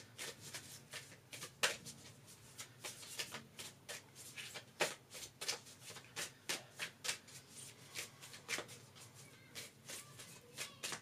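Moonology oracle cards are shuffled by hand close up, with quick, quiet riffling bursts and soft slaps repeating in an irregular rhythm throughout.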